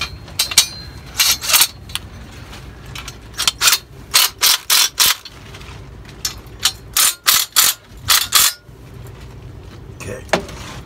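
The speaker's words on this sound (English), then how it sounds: "So now I'm gonna take the 19 millimeter there and I'm gonna cinch this down." A 19 mm ratchet clicks in rapid bursts while tightening on a Volvo D13 engine during injector work, close and crisp, about a dozen short ratcheting strokes separated by brief pauses.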